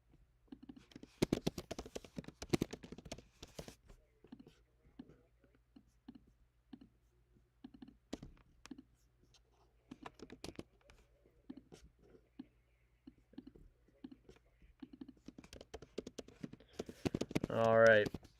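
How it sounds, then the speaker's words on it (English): Typing on a computer keyboard clatters in bursts of quick, faint clicks, scattered and irregular across the stretch, with brief pauses between flurries and a louder noise near the end. "Apologies if you hear typing on the keyboard."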